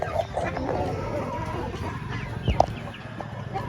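Chickens cluck in short, close bursts over a busy outdoor background, with a brief sharp squawk near the end.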